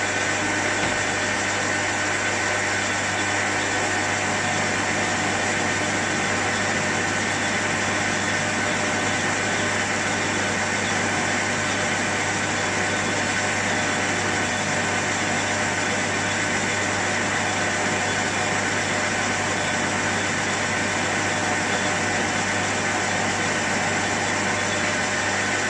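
A milling machine drills a steel valve rod for a 2-inch scale Fowler showman's traction engine, giving a steady, unbroken mechanical hum and whir, loud and constant throughout with no voices.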